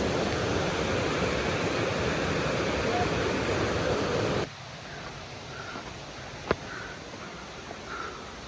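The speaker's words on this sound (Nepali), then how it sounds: "यहाँ चाहिँ नमस्ते झरना" Namaste waterfall in Nepal pours as a loud, steady roar for the first half, then drops to a quieter, distant rush with a few faint voices and a sharp click.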